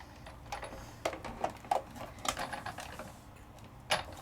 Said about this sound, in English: So now my die is cutting through mat board